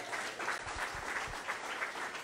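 A church congregation applauds at a service, a dense, sustained wash of many hands clapping together, steady and fairly close throughout with no voices standing out.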